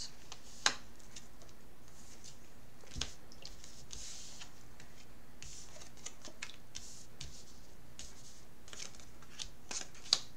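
A stack of tarot cards is handled, with soft shuffling and scattered light taps and clicks over a faint steady background.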